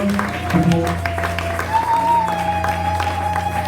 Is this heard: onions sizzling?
no